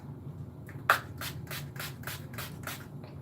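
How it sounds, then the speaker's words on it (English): A series of short, airy bursts of luminizer setting spray in quick succession, close and fairly soft, with no talking. "It's a luminizer setting spray."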